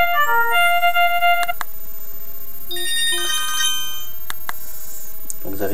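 Short electronic ringtone melodies play from a Classic Mega senior mobile phone, a few bright beeping phrases separated by clicks and brief pauses, near and fairly loud, with no talk over them.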